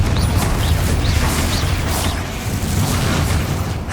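Confringo blasting spell explosions in Hogwarts Legacy, a run of loud booming bursts over a dense, continuous rumble of combat noise, with no voices.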